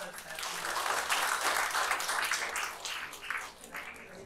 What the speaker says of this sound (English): clap our hands to welcome us.